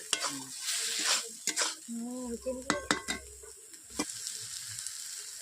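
Spinach latpoti being stirred in an oiled pan, with a spatula scraping and clinking against the metal over a soft sizzle. The strokes come irregularly and close by.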